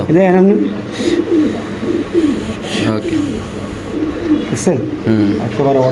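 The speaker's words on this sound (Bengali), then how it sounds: "এখানে আছে এক পিস লাহরি কবুতর" A Lahori pigeon coos in repeated throaty, rolling phrases close by, loud and continuous against a faint background.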